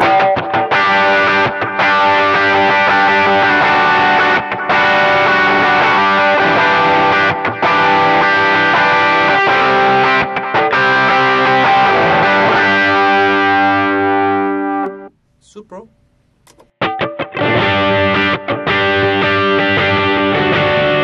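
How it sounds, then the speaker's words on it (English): Loud, heavily distorted electric guitar power chords ring out in sustained blasts with brief gaps, then drop to near silence before resuming. "let's do some simple power chord."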